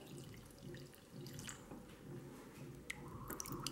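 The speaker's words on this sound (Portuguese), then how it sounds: "Vou colocar aqui água filtrada." Filtered water is poured from close by into a mug holding two teaspoons of cornstarch, a soft, quiet trickle with a few faint drips at the end.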